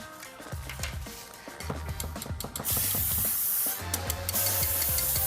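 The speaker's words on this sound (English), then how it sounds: "So I'm gonna spray this." Baking spray is sprayed onto pans for mini cakes in a studio kitchen, giving short hissing bursts and then a longer steady spray, with light clatter and a low hum underneath.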